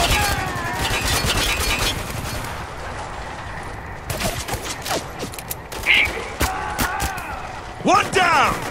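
Rapid gunfire from the third-person shooter Spec Ops The Line, with bursts of automatic shots crackling throughout, mixed with game effects and occasional shouted squad voices.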